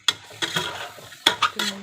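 A spoon stirs spices into chicken biryani in a cooker pot, giving a few close scraping, clattering strokes against the metal with faint sizzling in between.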